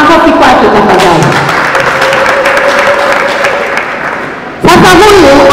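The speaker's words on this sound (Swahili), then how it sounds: "Makofi kwake tafadhali." Applause from an audience honoring a nationwide blood donation champion in Tanzania, steady dense clapping filling the whole span, briefly swelling louder near the end, with a voice speaking over it.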